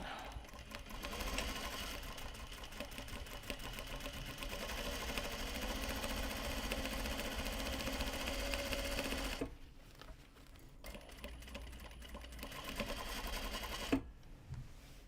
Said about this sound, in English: And then it's time for sewing.